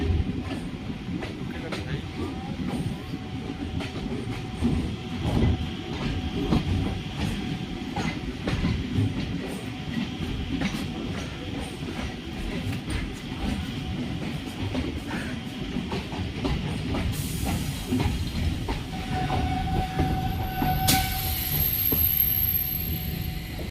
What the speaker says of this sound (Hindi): हमारी ट्रेन खैराही आके रुकी हुई है